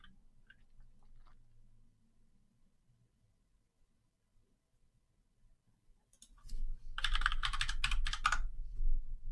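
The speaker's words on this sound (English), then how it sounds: "This is such a tricky word to type." Typing on a computer keyboard: after a near-silent stretch, a close, brisk burst of rapid key clicks runs for about two seconds, with faint low background hum.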